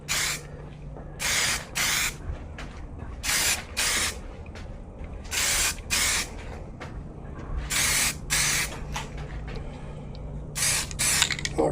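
Short bursts from a spray can hiss loudly and close by while a curbed car rim is repainted in light coats. About a dozen blasts, each a second or so long, come in an irregular rhythm over a steady low background hum.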